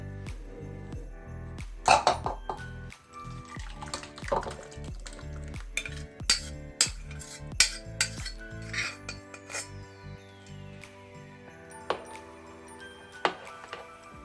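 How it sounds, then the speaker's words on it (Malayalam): Spoon scrapes and clinks against metal pots as tapioca curry is scooped and moved into a vessel, with irregular sharp knocks and a few ringing tones. "അതിന് മുമ്പായിട്ട് നമുക്കിതൊന്ന് പാത്രത്തിലോട്ട് മാറ്റാം."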